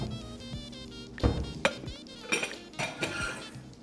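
A frying pan and a small pot are picked up and set down in a kitchen, producing a series of clanking metallic knocks and clinks, several sharp hits spread irregularly over a few seconds.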